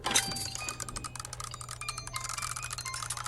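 A rapid, springy metallic rattle and clicking of warp springs in the game Alone in the Dark, steady, bright and ringing, like a coiled mechanism vibrating.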